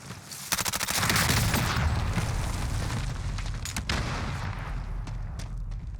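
A noob tube grenade launcher firing in Call of Duty Warzone: a quick string of sharp blasts opens into a loud, booming, rumbling roar that slowly fades, with almost no talk.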